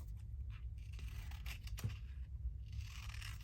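Paper labels cut with scissors, several close crisp snipping and slicing strokes over a low steady background hum.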